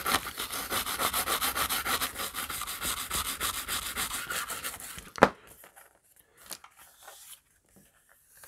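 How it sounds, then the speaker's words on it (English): Scrubbing around the connections on a Commodore 64 circuit board, a rapid rhythmic bristly rubbing that continues steadily for about five seconds, then stops with a sharp knock and a few faint taps, with no talking. "Try not to get too much scrubbing on the actual contacts."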